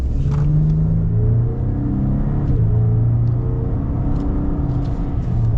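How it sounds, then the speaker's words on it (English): A high-mileage lifted Ford Raptor pickup accelerates gently at partial throttle, its engine a steady, loud, close rumble that rises slightly in pitch throughout, with no talking. "this is the portion where we'll get our little like minor acceleration, so we'll just be kind of like partial throttle here"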